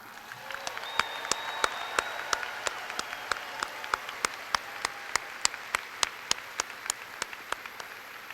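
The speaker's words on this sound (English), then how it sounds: "Let's celebrate this great group of West High scholars with a round of applause." Graduation audience at West High School applauding, a steady broad wash of clapping with sharp regular claps standing out through the middle, no speech.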